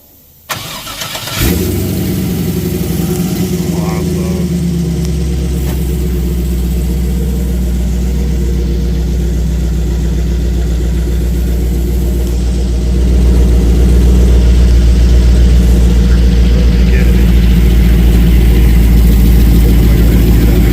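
An old junkyard car engine cranks and catches, then settles into a loud, steady idle with a deep low rumble that grows slightly heavier partway through, close up, with no talking.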